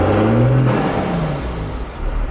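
A large tractor engine at Euro Auctions runs loud and close, a deep rumbling drone whose pitch dips and shifts as it revs, with no talking.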